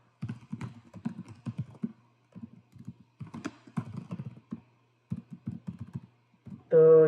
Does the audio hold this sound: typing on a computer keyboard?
yes